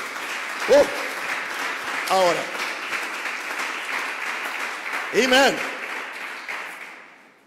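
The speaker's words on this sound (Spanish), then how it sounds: "Un aplauso a Jesús fuerte." A church congregation claps steadily at a Spanish-language service, with a voice speaking over the applause and several sung or shouted vocal bursts rising above it.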